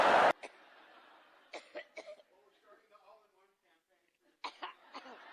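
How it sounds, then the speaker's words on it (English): A woman coughs in a fit, with short harsh bursts at the start and again near the end, close and clear, with murmured voices and quieter throat sounds in between. "The coughing fits, which is yet another side effect of strokes."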